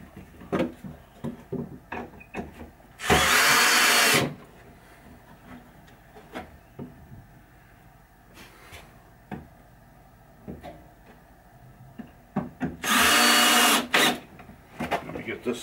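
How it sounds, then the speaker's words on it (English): Power drill driving screws into a wooden pinball toolbox cabinet, two loud buzzing bursts of about a second each separated by knocks, handling clatter and a voice talking. "Once I'm done screwing it down, I'll show you."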